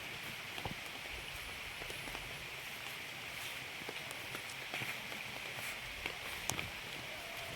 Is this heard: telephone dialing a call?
no